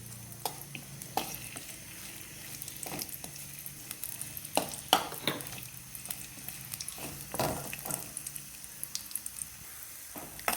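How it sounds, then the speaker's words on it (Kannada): Cashews, raisins and dates frying in a pan for wheat payasa, with a steady close sizzle broken by repeated stirring scrapes and clinks, no talk. "ಗೋಡಂಬಿ, ದ್ರಾಕ್ಷಿ, ಡೇಟ್ಸನ್ನ ಹಾಕ್ಕೊಳ್ಳಿ. ಚೆನ್ನಾಗಿ ಇವನ್ನ ಫ್ರೈ ಮಾಡ್ಕೊಳ್ಳಿ"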